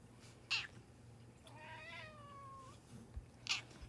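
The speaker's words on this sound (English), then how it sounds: "You will constantly hear cats in the background." A cat meows in the background of an indoor drawing session, one drawn-out mew with a wavering pitch, fairly faint and set apart from the short clicks and taps around it.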